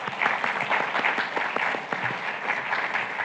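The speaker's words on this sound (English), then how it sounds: "let's give a round of applause to all of our sponsors and all of the contributing organizations" A lecture audience at a design talk applauds the event sponsors, with sustained, fairly loud clapping from a room full of people, steady throughout and free of speech.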